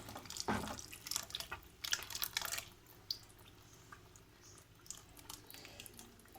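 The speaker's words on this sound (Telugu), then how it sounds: "ఈ జార్లో వాటర్ వేసి అందులో వేసేద్దాము" Water is poured from a jar into a pan of paneer gravy curry, making splashy bursts and trickles in the first few seconds before thinning to faint drips and small splashes.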